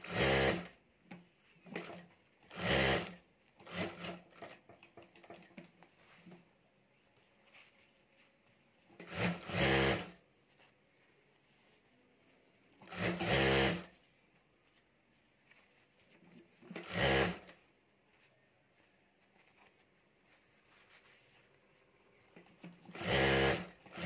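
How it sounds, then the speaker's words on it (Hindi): A sewing machine stitches a potli bag with its lining in short bursts of rapid, rhythmic whirring separated by quiet pauses, close and clear, with no voices. "और अब यहाँ हमें ऊपर सिलाई कर देनी है चारों तरफ, जो नीचे का अस्तर है वो साथ में आ जाए,"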